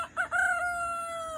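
A rooster in a backyard chicken coop crows one close, drawn-out call over a faint background, preceded by a brief clucking note.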